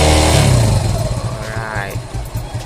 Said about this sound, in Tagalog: Rev natin ng malakas.